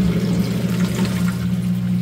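Drain water from an RV washing machine flowing out underneath the vehicle, a steady rushing, gurgling stream with a constant low hum beneath it and no speech.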